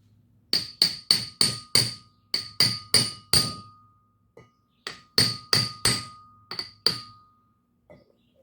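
A hammer taps brake seals into place on a 1951 Chevy truck, sharp ringing metallic strikes in quick bursts of five to eight blows with short pauses between, close and clear, each hit trailing a bright ring.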